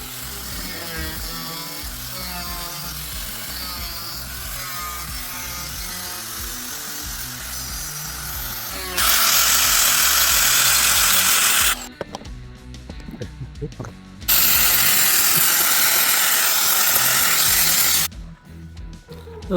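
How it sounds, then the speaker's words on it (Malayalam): Power tools cutting and drilling a piece of ACP aluminium composite panel, loud whining bursts of cutting alternating with pauses after a stretch of lower workshop noise. "നമ്മളൊരു എ സി പിയുടെ പീസ് ഇതുപോലെ കട്ട് ചെയ്ത് തുളച്ചെടുത്തിട്ട്"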